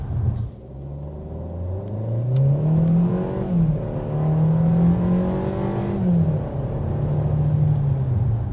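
The turbocharged engine of a 2024 Kia Seltos pulls hard and revs up steadily, its note climbing and holding with a deep rumble underneath, close and loud.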